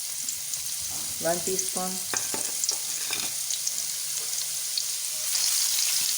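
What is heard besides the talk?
garlic ginger paste frying in ghee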